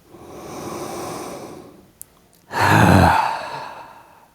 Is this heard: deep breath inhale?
yes